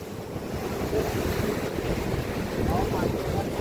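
Monsoon sea waves wash ashore on the Konkan coast in a continuous surging rush, with wind buffeting the microphone and surf swelling louder toward the end.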